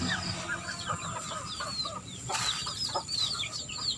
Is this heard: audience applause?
no